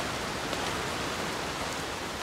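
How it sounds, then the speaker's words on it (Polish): Rain falling in the video game Blacktail, a steady soft hiss of drops spread evenly throughout, with a brief small sound at the end. "Szkoda, że ten deszcz pada."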